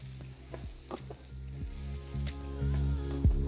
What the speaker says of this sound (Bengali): ব্যাস তারপর ফ্লেমটাকে লো রেখে এটাকে ভালো করে আপনাদের মিশিয়ে নিতে হবে।